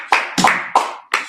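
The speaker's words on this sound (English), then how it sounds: "Let's clap that up." At a Sabbath service, four sharp separate hand claps ring out loud and close in a slow, uneven rhythm, with a short room echo after each.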